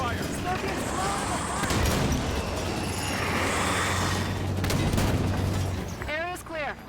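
Gunfire in the Halo 5 campaign: rapid bursts of shots and heavy booms layered over a dense, rumbling battle din, with voices talking over the fighting.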